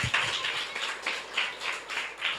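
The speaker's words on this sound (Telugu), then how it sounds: "కొట్టు చప్పట్లు గట్టిగా" Congregation clapping in rhythm during a Telugu spiritual sermon: a repeated, even beat of group claps, moderately loud, with no talking over it.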